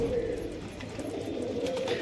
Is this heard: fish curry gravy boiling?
no